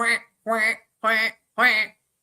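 A cartoonish electronic duck quack from a Super Nintendo video game repeats four times at a steady, evenly spaced rhythm. Each quack is short, nasal and buzzy, clear and alone, with silence between them.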